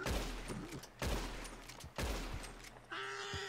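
Three sharp gunshots spaced about a second apart in Red Dead Redemption 2, each with a booming report and decaying tail, followed by a brief tonal game sound.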